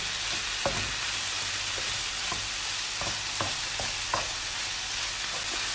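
Chicken and spinach filling frying in a pan gives a steady, close hiss of sizzling, broken by scattered clicks and scrapes of stirring, with no voices.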